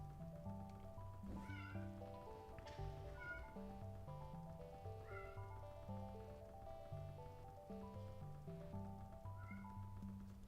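Repeated cat meows in the video game Tower Wizard, a steady series of clear, tonal calls over a soft rhythmic musical background, with no talking.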